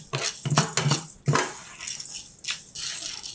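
Urad dal lentils roasting in a pan for thalipith bhajani flour rattle and scrape in quick, uneven bursts as they are stirred, with brief pauses between, close and fairly clear.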